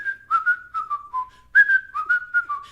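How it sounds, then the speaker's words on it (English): A person whistles a TV theme song, a bright, melodic tune carried in a series of short phrases with slides between notes, close and clear with no talking. "We're almost to the part where I start to whistle."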